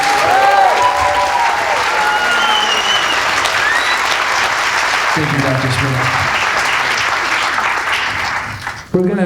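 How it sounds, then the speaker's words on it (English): An audience at a concert gives a sustained round of applause, dense clapping filling the hall while someone speaks over it through a microphone near the end. "Please give him one more round of applause"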